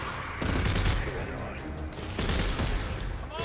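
Rapid gunfire from the sci-fi survival horror game Dead Space, with dense, loud bursts of shots in two clusters that briefly ease in between.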